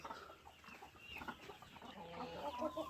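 Several free-range desi chickens on a poultry farm cluck and chatter close by, a busy, continuous mix of short clucks with no talking.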